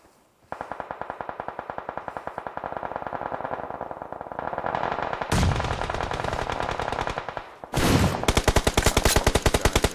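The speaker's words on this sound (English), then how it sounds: "Shots being let loose on the other corner as well." Video game battle gunfire in a tournament semifinal: dense automatic fire rattles almost continuously, then heavier bursts and a sharp volley near the end, loud and close with no talking.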